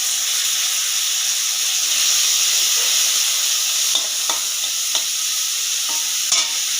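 Dried red chillies and tomatoes frying in hot oil with cumin for prawn curry, a loud continuous sizzle and hiss with a few sharp scraping stir strokes near the end, no talk.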